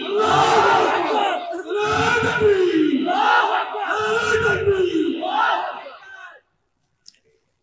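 A large crowd at an Islamic sermon roars the takbir chant back in several long, loud, rising collective cries, pausing between phrases, before falling silent.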